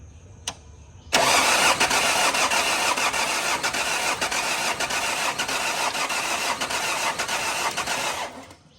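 A Nissan Navara D40 with a blown head gasket cranks and catches abruptly after a short click, then runs loud and steady for about seven seconds before cutting off.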